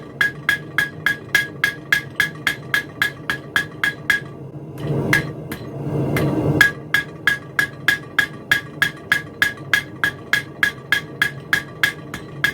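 Steady, evenly spaced ringing hammer blows of a cross peen shaping gas pipe at the forge, close and loud, with a brief rougher pause midway before the rhythmic strikes resume.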